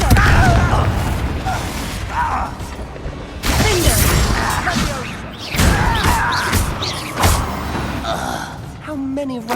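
Confringo fire spell blasts in Hogwarts Legacy fight against Ranrock's loyalists in a mine, several sharp booming bursts punctuating the clip amid character shouts and combat noise.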